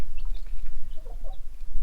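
Chickens on a small home flock clucking close by, a few short throaty clucks and calls spread over about two seconds, with no talking.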